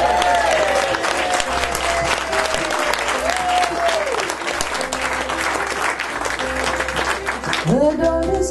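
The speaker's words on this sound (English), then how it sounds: "of applause for Mr. Mouse." Applause from a folk-concert audience for a performer at Manley, steady broadband clapping filling the room while a sustained tonal instrument or voice line runs through it.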